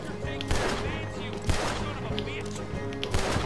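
Gunfire in Red Dead Redemption 2, several sharp shots spaced about a second apart over a dense, busy game soundscape, with a voice talking in between.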